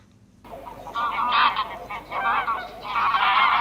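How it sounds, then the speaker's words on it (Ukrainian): Domestic geese honking loudly nearby, several overlapping nasal calls in a busy cluster, with no talking. "Гуси гучно гелгочуть, може, їсти вони хочуть."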